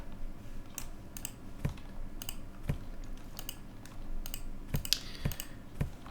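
Repeated mouse clicks while playing House Flipper, clearing bottles and debris from a filthy house, sounding as a dozen or so sharp, close clicks in an irregular rhythm over a low background hum.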